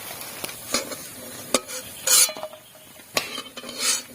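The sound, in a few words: sago fritters (sabur bora) frying in oil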